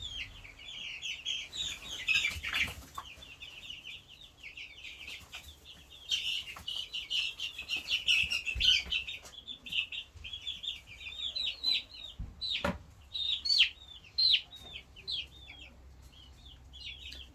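Young Brahma chicks peep and cheep in a constant high chorus, close and lively, with occasional soft wing flutters and small knocks mixed in.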